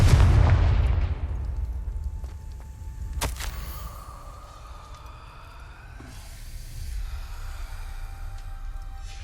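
A Confringo blasting spell explodes in the Hogwarts Legacy video game, a loud booming burst at the start followed by a sharp crack and a rumbling, fading tail with lingering game ambience.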